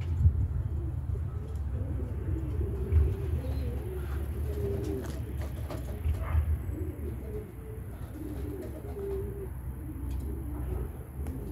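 Doves coo near a home pigeon loft, soft repeated low cooing calls rising and falling over a steady outdoor hum, with faint scattered chirps in the background.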